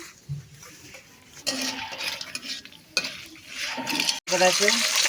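Cinnamon and mixed spices fry in hot oil for a vegetable biryani, with a bright sizzle that swells and fades in bursts alongside clinks and scrapes of a utensil against the pot.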